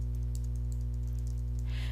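Keys clatter on a computer keyboard in quick irregular bursts of light taps, close but quiet over a steady electrical hum, ending in a brief soft rustle.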